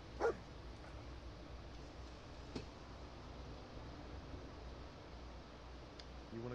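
Dog barking in Fallout 4: one short, louder bark near the start, then a few faint yips and whimpers over steady game ambience and background hum.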